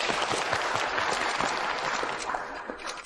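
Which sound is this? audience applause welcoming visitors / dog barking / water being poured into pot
audience applause welcoming visitors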